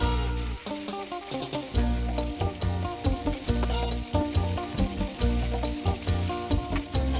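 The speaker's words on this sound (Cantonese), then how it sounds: "反轉煎香埋另一面" Fish heads and tails sizzle and crackle in hot oil with ginger slices in a wok steadily throughout, with a continuous frying hiss close up.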